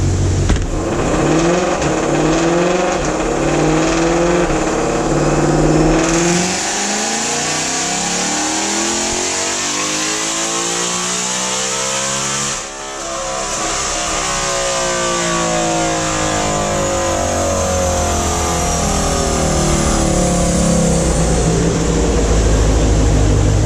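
A 2020 Ford Mustang GT500 with stock supercharger and pulley roars through a loud dyno pull, the engine note sweeping steadily upward in pitch, dipping briefly at a gear change, then climbing again for over twenty seconds with no talk.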